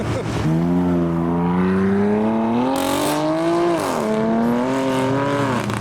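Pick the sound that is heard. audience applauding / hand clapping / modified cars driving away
modified cars driving away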